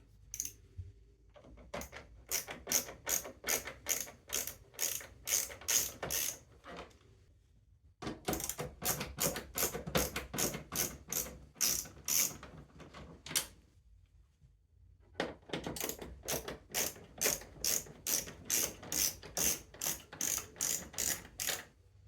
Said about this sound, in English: Now we have 3 screws to remove.